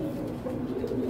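Male Bagha pigeons coo in a soft, continuous low murmur, close by, with no talk.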